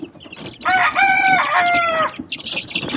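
Backyard chickens by a pen of December-born chicks, with one loud close rooster crow lasting about a second and a half amid soft clucking and chirping before and after.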